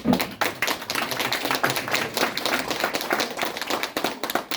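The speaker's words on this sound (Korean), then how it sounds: "그걸 박수를 쳐서" Scattered hand clapping from a group, uneven and moderately loud, continuing for several seconds.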